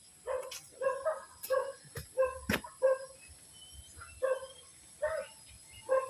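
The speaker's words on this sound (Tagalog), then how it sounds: "Baka may aso." A dog barks repeatedly in short, evenly spaced bursts at moderate distance, with a few sharper yips mixed in and no talking.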